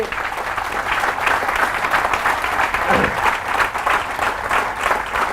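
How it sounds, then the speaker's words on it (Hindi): Sustained audience applause at a motivational talk, loud and dense throughout with steady clapping filling the room and a faint crowd murmur underneath. "इस बात पे जोरदार तालियां होनी चाहिए"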